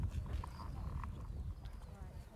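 A young horse's hooves clip-clop at a steady walk while being ridden during endurance riding, soft and close, with a person talking over the hoofbeats.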